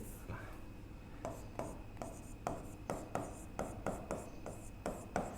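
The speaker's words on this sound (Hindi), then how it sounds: "थोड़ा इसको सही लिखते हैं" A pen moves by hand across paper as written text is corrected, a quiet series of short scratchy strokes in a steady rhythm, close by, with no talk.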